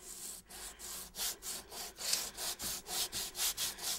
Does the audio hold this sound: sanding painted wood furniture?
yes